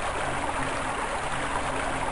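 Steady, even rush of flowing water in the video game Overblood, a continuous broadband wash with no breaks, moderately loud and heard alone.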